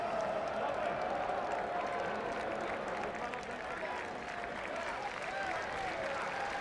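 Spectators in the main grandstand at a rugby match applaud in a broad, continuous wash of distant clapping and crowd noise, with a commentator talking over it.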